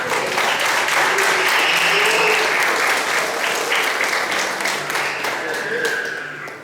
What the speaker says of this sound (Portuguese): Dá uma aplauso ao nome do Senhor.